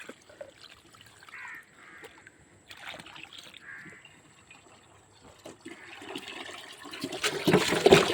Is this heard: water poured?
yes